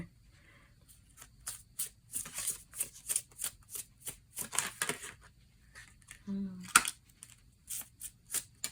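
Cards are riffled and shuffled in a series of quick, crisp bursts, close up, with brief pauses and a faint voice in between.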